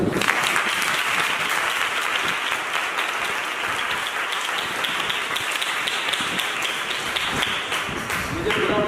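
A congregation at a Friday fasting prayer meeting claps continuously in a dense, even patter, moderately loud and sustained, with voices faintly underneath.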